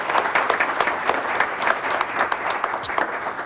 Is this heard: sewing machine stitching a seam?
no